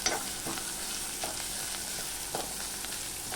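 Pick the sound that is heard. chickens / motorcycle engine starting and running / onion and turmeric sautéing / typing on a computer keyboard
onion and turmeric sautéing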